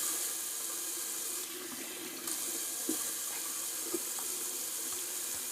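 Running water from a tap splashes steadily as a face is rinsed after a wet shave with Williams mug soap, a continuous close wash with small shifts in the flow and no talking.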